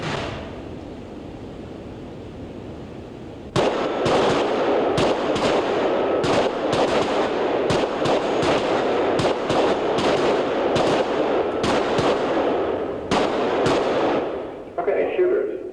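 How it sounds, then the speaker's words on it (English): Handguns fire in a rapid, uneven volley at a shooting range, a dozen or more sharp cracks from several shooters drawing and firing six rounds each, loud and close after a quiet start, with a voice underneath. "when the target's faced, I want you to draw and fire 6 rounds."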